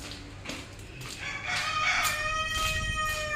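Rooster crowing with chickens clucking at a backyard coop, the crow rising clear and fairly close over a soft scatter of clucks, with no talk.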